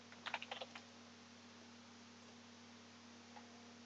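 Quick burst of computer keyboard typing on a Windows Vista or Windows 7 PC, a handful of close, light key clicks in rapid succession over a steady low electrical hum, then just the hum with one faint later tap.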